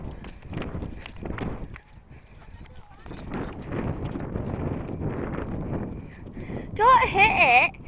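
Hooves clip-clop on the ground at a brisk pace under wind noise, with people talking and a high-pitched voice near the end.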